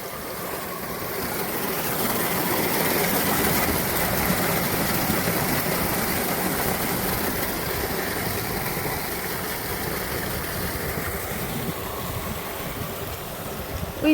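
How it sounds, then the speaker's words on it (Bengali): A submersible pump feeds irrigation water into a farm field, producing a steady, close rush of gushing water over a constant motor hum that holds without a break. "এই যে সাবমার্সিবলটা দেখো, জমিতে জল দেওয়ার জন্যই ব্যবহার করা হয়, এখান থেকে জমিতে জল যায়।"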